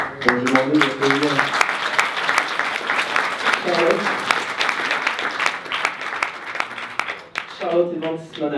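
An audience applauds a tired startup team at a pitch presentation, broad steady clapping filling the room for several seconds, with a speaker's voice briefly heard at the start, midway and again at the end.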